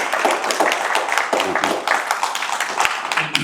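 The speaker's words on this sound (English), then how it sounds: "If we could all do a round of applause for that." An audience at a finance entrepreneurship panel claps in a dense, steady round of applause lasting a few seconds, with voices mixed in.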